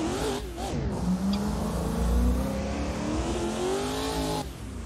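V8 BMW M4 race car engine in a sim racing game, revving hard and rising in pitch through the gears with a brief dip, loud and continuous.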